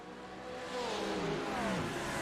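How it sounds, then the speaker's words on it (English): A Porsche six-cylinder race car in the iRacing Pro-Am sim series at Road America, its engine revving up with a rising, roaring pitch that grows steadily louder over two seconds, with no talk. "We're going to hear that 6-cylinder there roaring away as it crosses the line."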